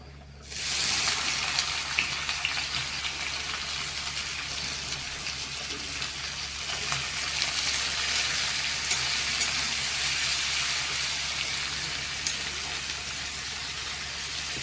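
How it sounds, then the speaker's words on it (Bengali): Chopped onion tipped into hot oil with cumin seeds bursts into a loud sizzle that holds steady and even, close up, with faint stirring and no talking. "জিরে ফোড়ন দিয়ে পেঁয়াজ কুচনো পেঁয়াজটা দিয়ে দিচ্ছি"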